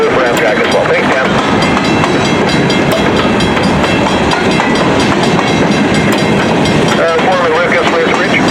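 Train rolls northbound across the Fraser railway bridge in New Westminster, a loud, continuous rumble with wheel clatter throughout, close by and dominating.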